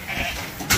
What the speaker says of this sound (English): It's the last sheep going in here now.